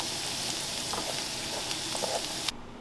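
Onion cooks in a pot for baked beans, a steady dense sizzle and crackle close by with a few faint stirring knocks, cutting off abruptly near the end.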